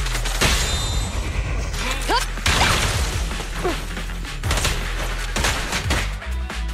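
Rapid bursts of gunfire in the action game Zenless Zone Zero during a fight against ethereals, with sharp repeated cracks and impacts over a dense layer of combat effects and music, and brief voices calling out in between.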